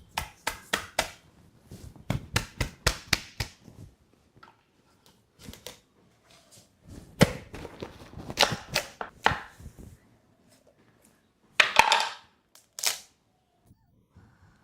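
Sharp, uneven knife chops through a large, hard custard-apple-like fruit, several quick clustered strikes near the mic separated by quiet pauses, with faint voices nearby.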